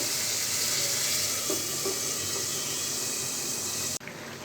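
Water poured into a pan of eggplant before hilsa fish is added, a loud steady rushing splash lasting about four seconds and then stopping abruptly.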